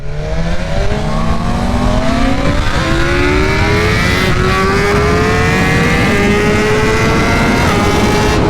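A stock BMW S1000RR motorcycle engine revs hard on a dyno, its pitch climbing steadily in a long loud pull through the gears with brief shift breaks, no talking.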